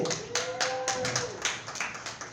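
Comedy club crowd applauding for a host named Paco Loco, a dense patter of claps with sharp hand strikes and some tonal chatter mixed in, steady for a couple of seconds.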